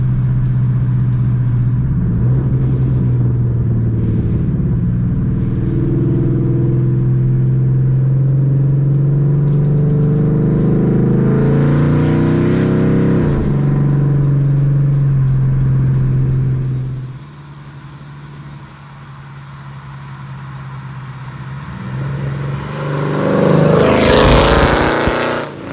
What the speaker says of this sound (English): We got this Challenger up and running.